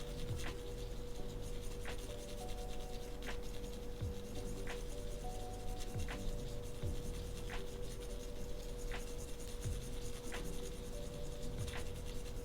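Mechanical pencil graphite scratches softly and steadily across cold pressed watercolor paper in layered hatching strokes, a continuous close, quiet rasp with faint rhythmic stroke accents and no talking.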